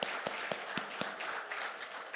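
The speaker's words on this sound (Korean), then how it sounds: "네, 우리 박수 한번." Scattered claps from a church congregation during a Sunday worship service, a handful of sharp hand claps spaced out over the first second and then a soft, sparse patter trailing off.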